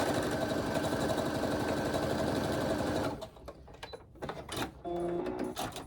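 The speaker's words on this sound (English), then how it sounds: "I'm going to sew a strip down the other sides of the square" A sewing machine runs steadily as it stitches a fabric strip onto a quilt square, a loud continuous mechanical whir for about three seconds before stopping, followed by light handling clatter and a brief whine.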